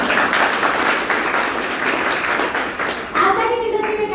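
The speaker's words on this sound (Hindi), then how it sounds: "ताली बजाओ।" A seminar crowd claps and applauds loudly and steadily, the clapping thinning out near the end as a voice starts speaking in Hindi.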